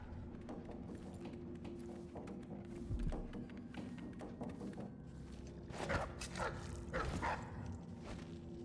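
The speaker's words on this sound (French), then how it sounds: "Il y a un dogo qui est enfermé là." A locked-up dog in the video game Dishonored 2 barks and yips in short bursts over a low droning game ambience, the barks moderately near and fairly faint.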